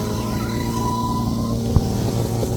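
A Nissan S14 engine with a soft rev limiter runs steadily with a low, buzzy drone and one brief knock partway through.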